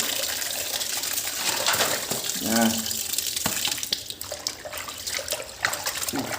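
Catfish being scrubbed and rinsed by hand in a basin of water before cooking in a fermented fish sauce soup, with steady splashing and sloshing, close and fairly loud throughout, and a voice briefly audible in the middle.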